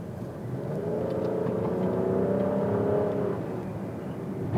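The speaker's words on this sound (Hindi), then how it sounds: "ये CVT ट्रांसमिशन किसी डुअल क्लच ऑटोमेटिक की तरह अप और डाउन शिफ्ट कर रहा है" A Nissan X-Trail with a CVT automatic transmission accelerates, its engine note a steady, rising hum heard from inside the cabin, fairly loud and continuous with no talking.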